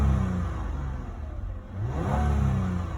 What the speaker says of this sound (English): You can just hear the air being sucked in a little bit.